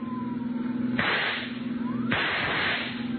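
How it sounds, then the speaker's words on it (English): Two sharp rifle cracks, about a second apart, ring out over a steady engine hum in an old-time radio detective drama, each one followed by a hissing burst as a car tire blows out. "There goes the tire."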